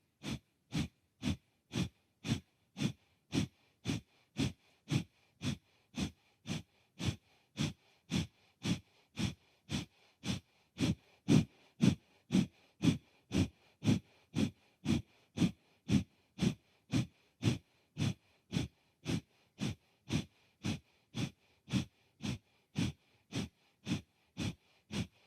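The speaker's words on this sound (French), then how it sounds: "Donc, notre Kapalabhati, inspirez." Kapalabhati yoga breathing: a long, steady series of sharp, forceful nasal exhalations at roughly two per second, evenly paced and close, with no talking.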